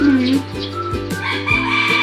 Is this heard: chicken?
yes